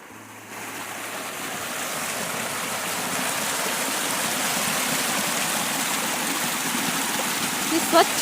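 Chigule waterfall in the Sahyadri hills pours with a broad, continuous rushing roar that swells slightly over time, steady and enveloping, with a faint voice near the end.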